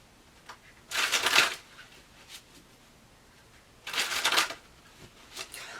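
Tarot cards are shuffled in two short, crisp riffling bursts several seconds apart, close and fairly quiet, with faint card handling between them and no speech.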